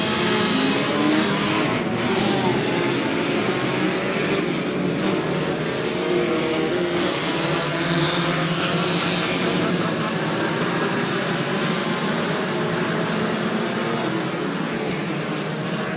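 Stock cars roar around a short oval at Twin State Speedway in Claremont, New Hampshire, a continuous loud engine drone filling the whole stretch with a race announcer talking over it.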